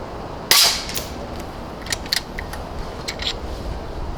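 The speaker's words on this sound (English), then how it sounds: "So we're going to do about 10 shots for the string" Several sharp air rifle shots from a Vulcan 3 in 5.5mm, a regulated PCP air rifle firing javelin pellets, one louder crack followed by quieter spaced reports over steady room hiss.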